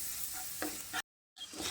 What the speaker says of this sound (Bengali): এবার আমি অল্প পরিমাণে জল দিয়ে মশলাটাকে ভালো করে কষিয়ে নেব